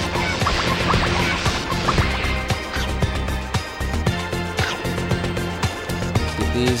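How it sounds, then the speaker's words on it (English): Chickens clucking in a video game, mixed with busy game sound effects and a steady backdrop of music, with small clucks and pecking sounds scattered throughout. "Let's get these chickens."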